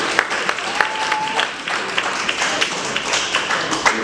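Scattered clapping from a crowd with sharp individual claps standing out, moderately loud and continuous throughout.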